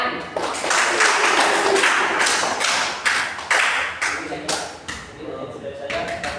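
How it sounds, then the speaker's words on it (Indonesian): A class applauds after a student's practice teaching exam, with loose, uneven clapping that rises at once, holds steady and then thins out into scattered claps. "Beri tepuk tangan."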